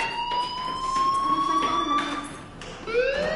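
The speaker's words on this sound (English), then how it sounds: "Hey, do you hear that fire alarm? That means you should be outside." A school fire alarm blares in a long, steady electronic tone that holds and slowly rises in pitch, then cuts off briefly and restarts, loud and piercing with little else around it.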